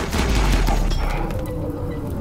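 Heavy booming cannon fire from inferno cannons in the video game RimWorld, dense and continuous, with rumbling low blasts layered over one another.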